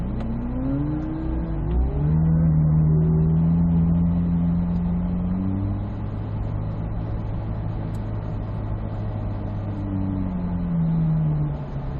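Autocross car on a timed run at a Ron Fellows autocross competition, engine revving loud and steady throughout, pitch climbing and dropping with gear changes and throttle, close to the listener with no talk over it.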